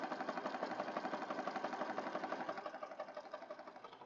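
A sewing machine runs steadily, stitching around the edge of a handmade journal card or pocket made from paper scraps, with a fast, even mechanical pulse and no talking.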